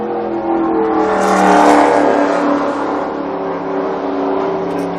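Stock car engine at Daytona easing off to about 3,500 RPM after turn 2, a loud steady in-car drone that swells briefly and then settles into an even hum.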